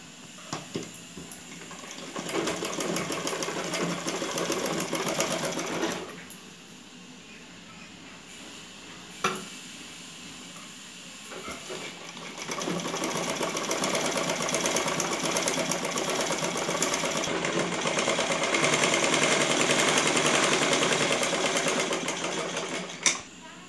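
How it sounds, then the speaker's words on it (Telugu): A sewing machine hums and stitches a folded one-inch cloth strip for a saree blouse back neck, running in steady stretches with a brief slowdown in the middle and faint clicks. "ఈ క్లాత్ వచ్చేసి ఇట్లా ఫోల్డ్ చేసి స్టిచ్ చేసుకున్నాం."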